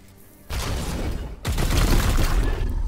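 Gunfire in the turn-based strategy game Warhammer 40k: Chaos Gate - Daemonhunters as a squad lays down support fire on demons, heard as two dense, loud bursts of overlapping shots and booms, the second heavier and sustained.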